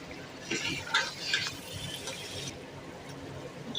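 A spoon stirs yogurt into a bowl while making chicken kadai, giving soft, close scraping and clinking strokes with a few brighter taps, then quieter mixing.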